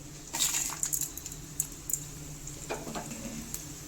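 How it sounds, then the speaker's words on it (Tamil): Mustard and cumin seeds crackle and pop in hot oil, with irregular sharp bursts over a quiet sizzle, close by. "நல்லா கடுகு ஜீரகம்லாம் நல்லா பொரிஞ்ச உடனே தூக்கி சாம்பாரில் ஊற்றி"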